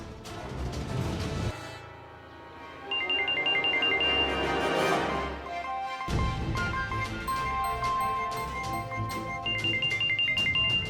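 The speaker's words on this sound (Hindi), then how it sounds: "सुमन का फोन" A mobile phone ringtone plays loudly, a bright electronic melody repeating its tonal pattern several times with no voices over it.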